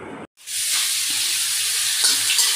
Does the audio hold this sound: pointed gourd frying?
yes